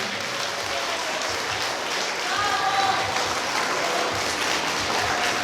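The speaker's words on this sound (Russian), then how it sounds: "Громче аплодисменты!" Applause from the audience at an anniversary award ceremony, sustained crowd clapping filling a hall, with some faint voices underneath.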